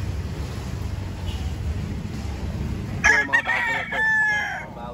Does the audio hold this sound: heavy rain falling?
no